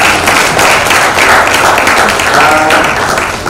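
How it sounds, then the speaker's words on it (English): Applause from a conference audience at an ICT development talks opening, a dense steady wash of clapping lasting the whole moment, fairly loud and close with no pause. "Give a round of applause to people in the back"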